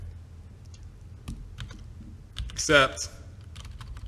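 Computer keyboard keys are tapped in short clusters of close clicks, with a louder burst partway through, while someone talks briefly.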